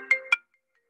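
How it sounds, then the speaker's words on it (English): A phone ringtone playing through a computer's speakers, two short bright electronic chimes close together that then stop. "I've got to figure out how to stop that from ringing through my computer."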